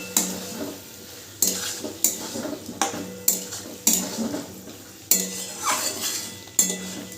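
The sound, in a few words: stirring soybean masala with cumin powder in a pan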